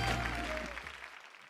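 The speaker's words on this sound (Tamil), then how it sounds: "ஒரு பெரிய கைத்தட்டல் கொடுத்தலாம் அவங்க ரெண்டு பேருக்கும்" An audience claps for two singers at a duet performance, a fairly close burst of applause mixed with a low hum that fades out within a second or so.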